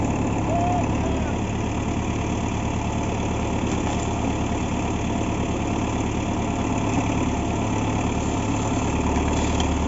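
A tractor engine chugs steadily at a low, even idle outdoors while pulling down a hung-up tree, a continuous mid-level rumble with no change in pace.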